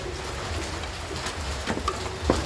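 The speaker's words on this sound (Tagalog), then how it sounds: "Narinig niyo ba yung patak ng ulan" Raindrops patter steadily in a broad wash of close rain on a surface, with a few sharper drips standing out near the end.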